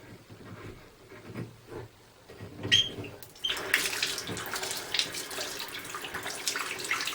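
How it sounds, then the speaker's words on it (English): Faucet turned back on after fitting a universal handle: soft handling noises give way to a steady hiss of running water, close and moderately quiet. "I'm going to turn the water back on and see what happens"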